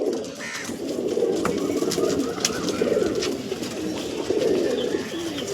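Dankuni Andhra pigeons at a home loft coo continuously at close range, several birds overlapping in soft, throbbing calls over a steady background.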